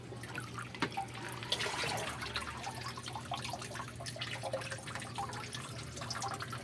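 Goldfish and water poured into an aquarium from a container, a sustained splashing pour with trickles and drips, moderately close and continuous.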